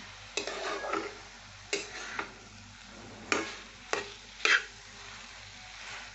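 Papaya with salt and sugar is stirred in a pan, with about six distinct scraping strokes of the spatula over a soft, steady sizzle, close and fairly quiet, with no talking.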